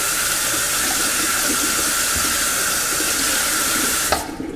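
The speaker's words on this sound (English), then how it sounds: "I'll wash everything out of the sink." A kitchen faucet runs steadily and loudly into a sink while it is washed out after baking corn muffins, then cuts off abruptly near the end.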